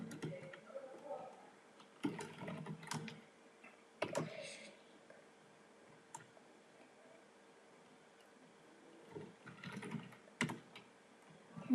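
Bursts of typing on a computer keyboard while writing a script, quiet and close, with clusters of clicking keys spaced by pauses.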